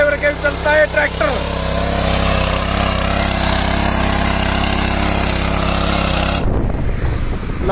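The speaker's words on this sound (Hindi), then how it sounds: "देखो भाई बिना ड्राइवर के भी चलता है ट्रैक्टर।" A 2023 Swaraj 742 tractor engine running loud and close, a steady throbbing rumble that holds for over six seconds before cutting to quieter noise, with talk early on.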